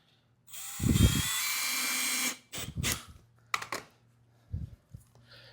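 A power drill drives screws into rough-cut construction lumber for a raised garden pergola trellis, with one long whirring run followed by several short bursts, fairly close and loud, no talking.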